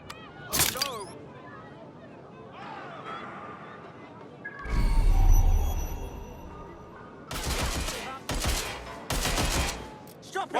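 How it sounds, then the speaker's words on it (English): Bursts of gunfire from a Watch Dogs Legion firefight, with sharp shots early, a heavy boom near the middle and several dense volleys later, mixed with shouted voices throughout. "Gunfire!"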